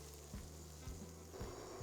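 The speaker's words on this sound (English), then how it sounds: "Let that sizzle for about a minute" Ginger, turmeric and curry powder sizzle in a pan, a soft continuous hiss with a few low knocks of a utensil stirring, quiet and close with no talking.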